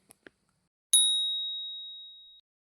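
A bright synthetic bell ding of the kind used for a subscribe-button notification rings once and clear, its tone sustaining and fading over about a second and a half after two faint ticks.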